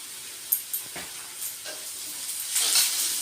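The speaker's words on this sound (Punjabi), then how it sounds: "ਇਸ ਨੂੰ ਆਪਾਂ ਸਾਰਿਆਂ ਨੂੰ ਚੰਗੀ ਤਰ੍ਹਾਂ ਮਿਕਸ ਕਰ ਲਾਂਗੇ" Spices, including cumin, coriander and deghi chili powder, being stirred into a pan for dum aloo: soft scraping strokes over a faint sizzle, with a brief louder hiss near the end and no talking.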